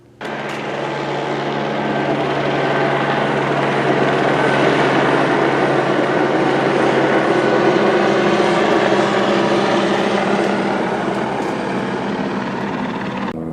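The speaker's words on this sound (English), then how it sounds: "Helicopter buzz, direct overhead" A helicopter flies low directly overhead, its steady rotor thrum and engine whine rising in loudness, holding close and strong for several seconds, then easing slightly, with no talking.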